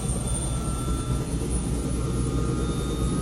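Model helicopter rotor and motor powering up toward full throttle indoors, a steady whirring drone with a sustained high whine, moderately loud and constant, with no talk.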